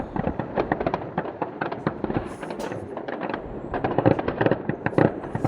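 Fireworks and firecrackers go off during Chinese New Year in Taiwan as a dense, continuous string of sharp pops and crackles, fairly distant and steady throughout with no one speaking.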